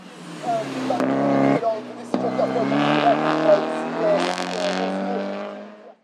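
A Peugeot 308 Cup race car in a hill climb, its engine revving hard with sharp gear-change breaks, loud and close, rising and pulling away, under a commentator's voice.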